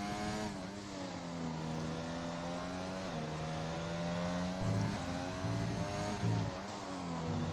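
A race car in a racing video game braking for the turn 10 hairpin on a Spanish circuit, its engine droning steadily, then dropping in pitch with quick downshifts into first gear. The engine is close and continuous, with no talk.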